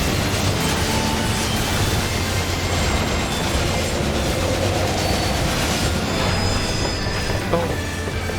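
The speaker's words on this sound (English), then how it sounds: "The Phantom Train. That's what this thing is called." Phantom Train boss in the Final Fantasy XIV video game, a continuous rumbling train roar with rattling wheels and faint squeals, steady and loud throughout with no talk.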